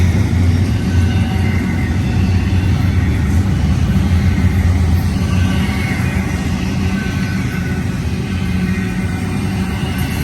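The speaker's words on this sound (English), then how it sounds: "Short train, I think." A BNSF double-stack intermodal freight train rolls past in the Cajon Pass, a steady, loud low rumble and rail roar that holds constant throughout with no voices.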